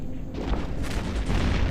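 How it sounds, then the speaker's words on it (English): Spaceship explosion in the EVE Echoes space combat game, a dense, rumbling boom that swells and sustains across the whole stretch without any talking. "Taking full damage, and ship is destroyed."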